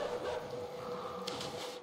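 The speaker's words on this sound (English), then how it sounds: "Now dogs are after me." Dogs in the video game Inside giving short, yelping barks and whimpers that come in brief bursts, fairly faint, under a steady game soundscape.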